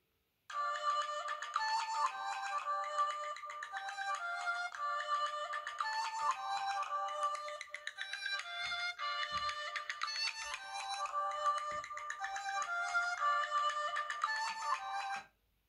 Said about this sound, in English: let's give him a ring. But here we are, should ring now in a minute.